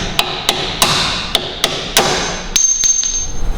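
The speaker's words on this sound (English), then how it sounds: "grab yourself a lump hammer. We want to give these a bit of a tease and get these knocked out." A lump hammer strikes the suspension strut bolts of a Dodge Grand Caravan with sharp metallic knocks, about seven spaced blows followed by quicker lighter taps, close and without talk.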